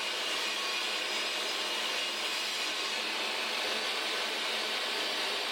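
Steady, loud sanding of wooden drawers being built during a Sprinter van build, a continuous hissing abrasive rasp that runs without a break and with no voices.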